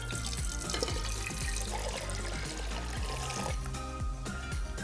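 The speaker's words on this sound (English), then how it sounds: "This is where the spigot comes in handy because you can just open it up, let it out." Cold brew concentrate streaming from the spigot of an Alto commercial cold brewer, a continuous close liquid pour with gurgling splashes over about five seconds, no voices.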